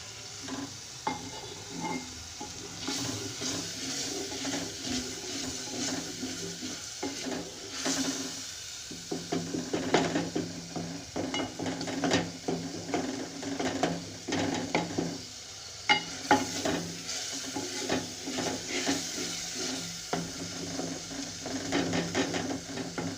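Potatoes and fenugreek leaves fry in a pan with a soft, steady sizzle while a spoon repeatedly presses and scrapes against the metal in uneven clicks and taps, close up and without talk.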